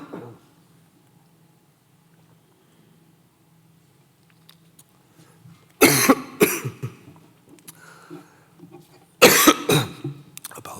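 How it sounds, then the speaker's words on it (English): A speaker at a medical conference on artificial intelligence coughs in two loud, harsh clusters of several bursts each, close to the microphone, after a quiet stretch. "Excuse me, the cough's coming back."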